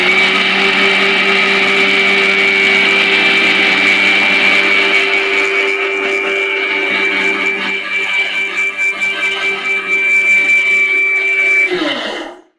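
A mixie blender grinds a hair care mixture in its jar with a loud, steady motor whine for about twelve seconds before abruptly cutting off, no one speaking.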